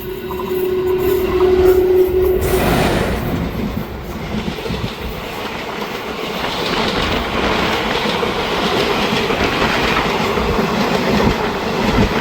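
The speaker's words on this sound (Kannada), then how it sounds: "ಈಗ ಬರ್ತಾರೆ ಟ್ರೈನ್ ಬಂದು 12678 KSR Bengaluru intercity express, super fast express." The KSR Bengaluru Intercity superfast express train rolls past close by, a loud steady rumble with rhythmic clickety-clack of wheels over rail joints and a brief squeal early on, continuing for several seconds.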